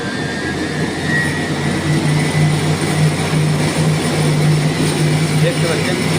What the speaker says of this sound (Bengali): তো স্টার্ট হয়ে গেল আমাদের মেশিন।